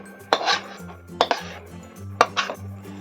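A metal spatula clatters and scrapes against a pan as the cooked raw mango amsotto mixture is scraped out onto a plate, three rhythmic bursts of clanking and scraping, close and fairly loud.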